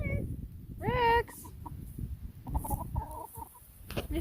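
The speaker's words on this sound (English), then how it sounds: "Mr. Rooster." A farm rooster clucks and gives a short crowing call up close, with a few softer bird sounds, while people talk nearby over outdoor background noise.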